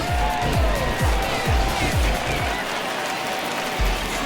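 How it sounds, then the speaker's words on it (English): A home crowd in the MLB The Show 20 baseball video game applauds and cheers after a home run. The roar of the stadium crowd is steady and loud, with rhythmic low thumps under it through the first half. "No better way to get the home crowd into it right out of the gates."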